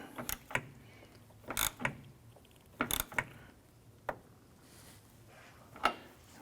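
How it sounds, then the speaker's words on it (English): A 3/8 ratchet snugging down bolts on a Chevrolet S-10 windshield wiper transmission, with a few scattered, quiet clicks and clanks at irregular intervals. "we're going to go ahead and snug these down with our 3/8 ratchet"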